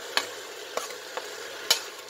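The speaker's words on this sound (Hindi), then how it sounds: "सभी ड्राई रोस्ट मसालों के साथ आप इसको भून लें" Chilli chicken is stir-fried with dry roasted spices, giving a few separate spatula scrapes and clacks against the pan over a faint low sizzle, close and with no voice.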